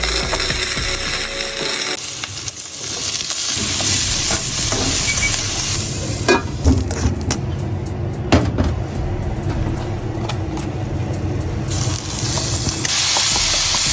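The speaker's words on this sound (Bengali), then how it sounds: "আজকে চিংড়ির সাথে একটা সবজি ভাজা করা ট্রাই" Live prawns and vegetables stir-fry in a pan in Japan, a loud hissing sizzle with clattering spatula strokes and scraping bursts through the middle, close up and without talk.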